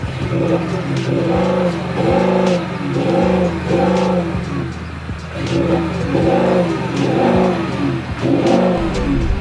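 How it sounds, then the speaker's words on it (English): A car engine revs repeatedly in rising and falling surges, loud and close, several bursts in a row with brief dips between. "Bit of a sound test to see which car sounds better between the two."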